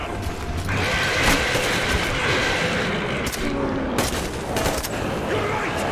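Sustained gunfire against mutants in Metro Exodus, dense and continuous over a rumbling mechanical, train-like din, with sharp louder shots near the middle and a voice breaking in briefly.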